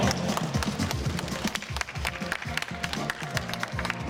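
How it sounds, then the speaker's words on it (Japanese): Audience applause at a Halloween costume contest at Abeno Harukas, scattered hand claps with irregular rhythm, moderately quiet, with some voices mixed in. "皆さん大きな拍手を。"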